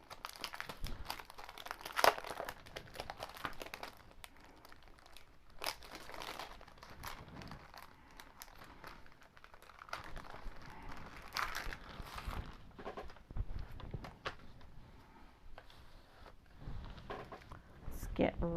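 Plastic packaging holding wrapping-paper stencils is opened, giving soft crinkling and crunching rustles spread through the stretch, faint and close, under a person talking.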